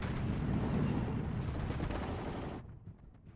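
Bombs from a bomber's run land in a Steel Division 2 wartime battle, a dense, continuous rumble of blasts that fades abruptly into quieter distant booms near the end.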